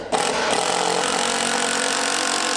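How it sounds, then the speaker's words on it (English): A power drill whines steadily at close range, a continuous high-pitched motor drone biting into a wooden 4x4 while drilling pilot holes, with no voices. "I'm gonna hurry up and drill pilot holes in the bottom of the 4x4x12"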